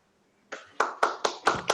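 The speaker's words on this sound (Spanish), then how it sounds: "Es un aplauso por todo lo que ha empezado en esta sala." Six sharp, evenly spaced hand claps ring out in a room at an anniversary celebration, each crisp and close, following a short stretch of near silence.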